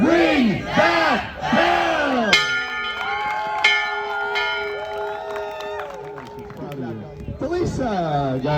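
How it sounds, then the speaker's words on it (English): A bell is rung at a graduation celebration honoring students' college acceptances: a voice speaks first, then a single clear strike rings out and hums for several seconds before the crowd noise and talk return. "Felisa, ring that bell!"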